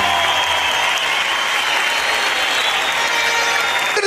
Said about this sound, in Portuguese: uma grande salva de palmas para o meu primeiro convidado angolano a pisar este palco